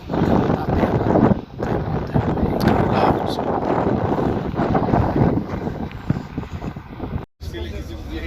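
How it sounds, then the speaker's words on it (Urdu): Strong desert wind roars across open ground at ancient ruins, a loud continuous buffeting rush hitting the microphone for several seconds, with a voice faintly mixed in. "بڑی تیز ہوا چل رہی تھی."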